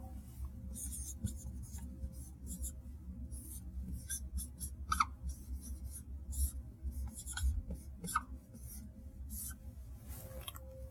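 Pen writing out a mathematical formula on a surface during a nanoelectronics lecture, giving close, continuous scratchy strokes in short bursts with brief pauses between them.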